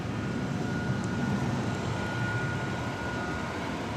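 A Boeing 737-800 airliner arriving at Dallas Fort Worth Airport gives a steady, rumbling engine roar heard from a distance, broad and constant with a faint whine riding on top.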